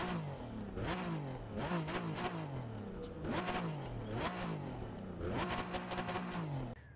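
Lancia Stratos HF Stradale engine revving in repeated loud bursts, each climbing in pitch and then falling back, close up with no talking.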